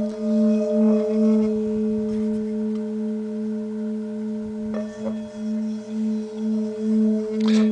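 An old 7-inch singing bowl weighing about 1007 grams rings with a sustained bright metallic hum of steady layered overtones, loud and close, swelling and pulsing gently as the rim is worked, with no talking.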